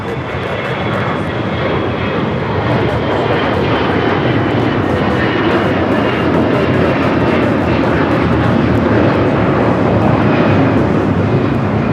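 A jet airliner thunders down the runway on its takeoff roll at LAX, a loud, steady broadband engine roar that holds and swells slightly across the whole stretch with no talk over it.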